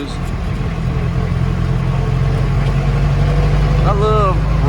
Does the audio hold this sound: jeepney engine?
yes